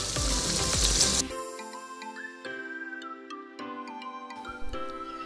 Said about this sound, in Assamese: এতিয়া আৰু অলপমান পানী দি ভাজি ল'ম আৰু এবাৰ